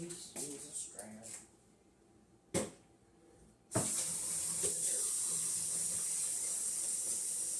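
Liquid black soap pours through a strainer with a steady, close rushing splash that starts abruptly after a short stretch of speech and some handling noises, then continues evenly.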